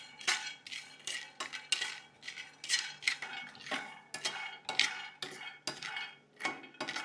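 Peanuts roast on low heat in a pan and are stirred with a utensil, a series of close scraping and clinking strokes in an irregular rhythm with no talking.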